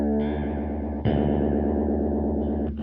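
Guitar running through a lush 80s-style modulation effect pedal set to high speed, sustained distorted chords warbling with fast, wobbling chorus-like pitch sweeps, loud and close, with a fresh strum midway and no talking.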